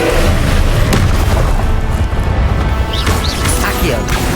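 An Incendio fire spell in Hogwarts Legacy hits with a loud booming crash, followed by crackling and rumbling impacts in a dense, busy combat mix.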